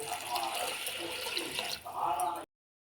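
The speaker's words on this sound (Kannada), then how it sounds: "ನೆಕ್ಸ್ಟ್ ಇವಾಗ ನೀರು ಹಾಕ್ಕೊಳ್ಳೋಣ." Water runs from a tap or is poured into a cooking pot in a home kitchen while bisi bele bath is made, a steady, close splashing rush that shifts pitch near the end and then stops sharply.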